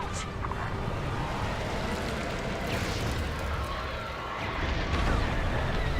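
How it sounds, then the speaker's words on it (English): Explosions in a space combat video game, dense rumbling booms layered with bursts over a continuous roar, loud and sustained, with a sharper blast near the end. "And those explosions."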